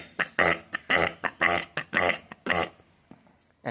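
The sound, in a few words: imitation of a male duck call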